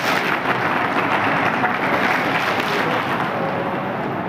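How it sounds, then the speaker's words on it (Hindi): Loud, dense applause from a hall audience honouring mothers at a retirement celebration in Bulandshahr, a steady wash of clapping that holds for several seconds without a break. "एक बार पूरा सदन सभी माताओं के लिए जोरदार ताली बजाकर उनका सम्मान करें"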